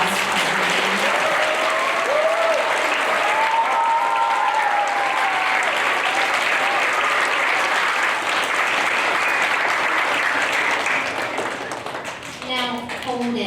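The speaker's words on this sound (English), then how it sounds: "can we get one more round of applause for everybody?" Loud, sustained applause from a school crowd at Hoover Elementary fills the gym for over ten seconds, with cheers and shouts of children riding above the clapping before it thins out at the end.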